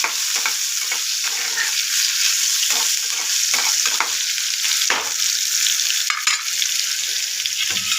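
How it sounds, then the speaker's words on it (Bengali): Long-cut radish strips fry in hot oil tempered with black mustard seeds, a loud continuous sizzle punctuated by repeated scraping stirs of a spatula, with no one talking. "এবার মূলা ছেড়ে দিলাম, লম্বা লম্বা করে কাটা মূলা আছে, সেগুলো ছেড়ে দিলাম"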